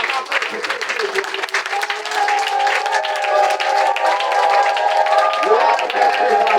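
A church congregation applauding, dense sustained clapping from a crowd with voices singing or calling out over it.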